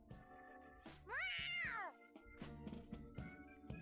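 A cat meows in the Persona 5 Royal video game. One clear, rising-then-falling meow stands out over busy game music and effects.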